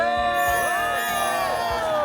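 A studio crowd on the Running Man set applauds and cheers for Haha, with loud whoops and yells and a rhythmic thump of clapping over bright sustained tones, all close and energetic for the brief moment.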